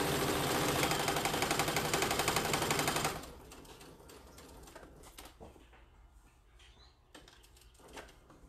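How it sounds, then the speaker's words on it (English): A sewing machine stitching a fabric seam on an apron, whirring rapidly and steadily for about three seconds before stopping, followed by quiet handling sounds. "I'm going to sew down to my bottom"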